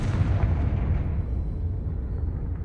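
A Confringo fire spell in Hogwarts Legacy bursts into a deep, rumbling explosion that booms loudly and slowly fades over a couple of seconds.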